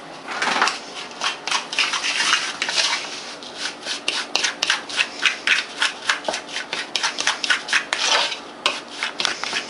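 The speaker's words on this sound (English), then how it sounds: "now you want to stir this up really" Sliced apples and cinnamon stirred in a bowl, close and crisp, giving a run of rhythmic scraping and rubbing strokes that quicken toward the end, with no talking.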